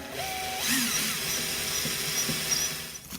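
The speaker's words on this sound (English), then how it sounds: "Once all the screws are started, we start in the middle and snug them down, but don't over tighten them." A power driver whirs as screws are snugged down on a bar during a Mullen install, one continuous close motor whine with small pitch shifts and a brief dip near the end.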